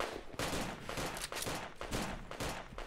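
Gunfire in the video game DayZ Overpoch: rapid, close shots crack out in quick repeated bursts for nearly three seconds, forming a dense volley.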